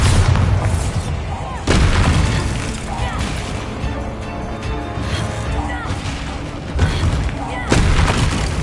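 The Bombarda spell exploding in the video game Hogwarts Legacy gives loud booming blasts, a few heavy bursts with rumbling tails over a dense, busy game soundscape.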